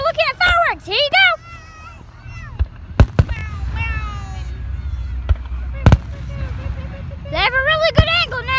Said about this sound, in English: see, we're looking at fireworks.